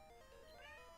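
A single drawn-out cat meow, close and fairly quiet, with no other sounds around it.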